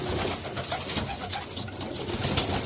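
Young pigeons at a loft coo continuously and close by, a dense rolling murmur of soft calls layered with fluttery background noise throughout.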